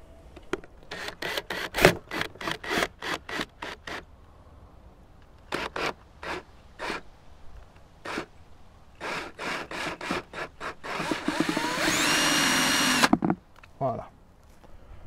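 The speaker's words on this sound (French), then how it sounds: "Donc je vais pouvoir le percer et faire l'entrée pour le barboteur." A hand drill boring a roughly 14 mm hole in a lid for an airlock, heard as a series of short rasping bursts followed by a longer steady whirring run near the end, close and fairly loud.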